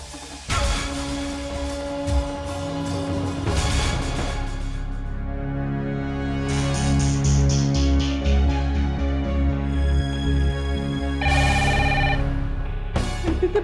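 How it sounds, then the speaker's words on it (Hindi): A phone ringtone plays on and on, a melodic electronic ring repeating steadily with no one speaking over it. "के बाज रहल बा, बाकी कोनो फोन उठावत नहीं के"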